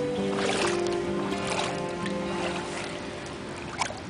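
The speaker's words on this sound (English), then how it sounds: "The canal is lapping the banks." Canal water laps against flooded banks and towpath in Yorkshire, a steady gentle wash of small waves with faint splashes and a low hum, continuous and close by.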